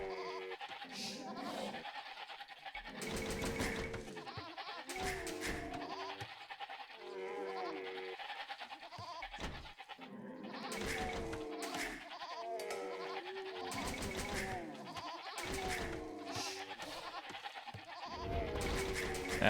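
Sheep bleat repeatedly in the real-time strategy game Age of Empires II, several short bleats recurring at irregular intervals among other game sounds.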